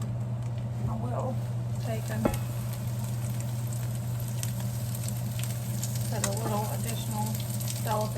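Eggs fry in a pan with a steady, close sizzle throughout, broken by a few faint clicks and light kitchen knocks.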